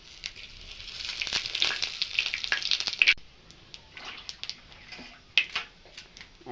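Whole cumin seeds crackle and sizzle in hot oil in a pan, a busy close frying hiss with scattered pops that is loud at first, then thins out after a few seconds with a few sharper crackles.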